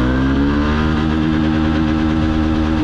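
Honda Unicorn BS7 motorcycle engine running loud and close, a steady throbbing rev that holds at a constant high level throughout without a break.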